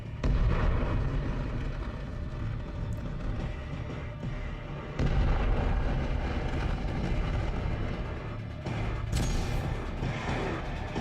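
Spaceship weapons fire in The Expanse, season 5 episode 4 "Gaugamela": a loud, sustained barrage of heavy rumbling and booming impacts rolls on for about eleven seconds with no voices.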